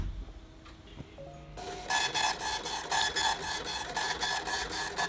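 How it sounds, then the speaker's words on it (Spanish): An impact printer rattles in rapid, evenly repeating bursts of mechanical striking, close and loud, starting up after a short quiet stretch with faint hum and clicks. "Impresora, impacto, ruido"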